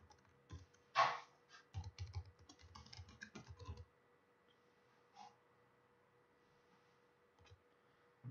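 Fingers tap out a comment on a computer keyboard in a quiet room, with a quick burst of close keystrokes followed by a pause and a few scattered clicks over faint background hum.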